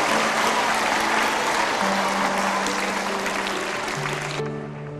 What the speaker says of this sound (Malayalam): ഒരു കൈയടി കൂടി കൊടുത്തേ.